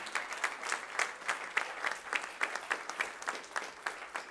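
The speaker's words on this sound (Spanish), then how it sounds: "Denle un fuerte aplauso al Señor." A church congregation claps together in a steady rhythmic beat, each unison clap distinct and evenly spaced, moderately loud in a reverberant hall.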